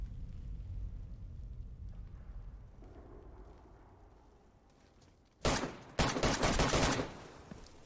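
Quiet rumbling background in the video game Skyrim, then sudden loud bursts of rapid gunfire erupt near the end, a short volley followed by a longer sustained barrage.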